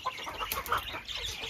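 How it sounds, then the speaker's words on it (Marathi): Fighter hens at a farm give short, quiet clucks, a few soft calls over a brief moment. "तर ती पूर्ण फायटर कोंबड्या आहेत"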